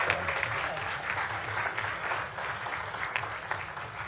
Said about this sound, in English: People clapping.